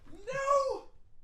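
A house cat lets out a single clear, drawn-out meow, close by and rising then falling, in an otherwise quiet room.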